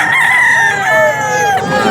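Young gamecock stag crowing at a rooster sale in Bocaue, one loud close drawn-out crow with a falling tail, other fowl faintly audible behind.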